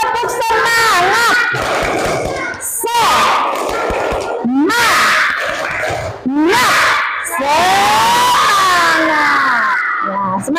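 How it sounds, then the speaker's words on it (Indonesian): A school class in Palangka Raya doing a spirited group clap and cheer, loud rhythmic claps broken by shouted chants and excited children's voices in bursts. "Iya, tepuk semangat ya."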